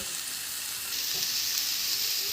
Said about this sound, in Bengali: গ্যাসটা লোতে রেখে 5 থেকে 7 মিনিট মতন সবজিগুলো ভাজবো।